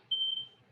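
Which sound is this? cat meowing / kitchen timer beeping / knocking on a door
kitchen timer beeping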